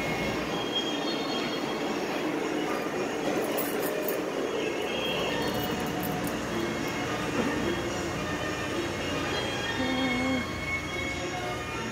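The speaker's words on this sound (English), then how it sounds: "And I think this trolley's about to leave, so we'll just wait." A Disney monorail train pulls out of the station toward Epcot, a steady loud rumble of rail wagons with wheel squeal and mechanical whine running through the whole stretch, no talking heard.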